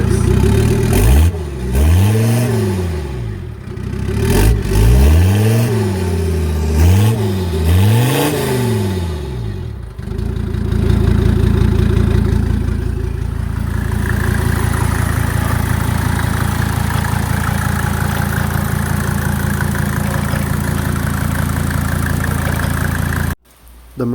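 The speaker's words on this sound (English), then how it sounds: "inline 5 sounds once again, now with the turbo" A Mercedes W201 190D with a swapped-in OM602 inline-five turbo diesel revs hard several times in a rising and falling pattern, then settles into a steady, loud, close idle that runs on to the end.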